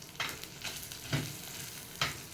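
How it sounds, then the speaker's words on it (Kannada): Urad dal and Byadgi chillies fry in hot oil with a soft, steady sizzle, broken by three distinct spoon scrapes spaced about a second apart. "ಇದಕ್ಕೆ ನಾನು ಇದು ಬ್ಯಾಡಗಿ ಮೆಣಸು ಹಾಕೊಂಡು ಸ್ವಲ್ಪ ಫ್ರೈ ಮಾಡ್ತೇನೆ"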